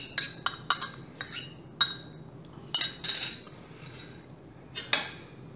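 A utensil clinks and taps against a pot while Penicillium roqueforti culture is stirred into milk for homemade blue cheese, giving a series of light, irregular metallic clicks.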